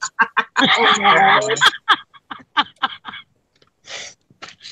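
A woman sneezes once, loudly and close, amid nearby conversation, right after applying mascara.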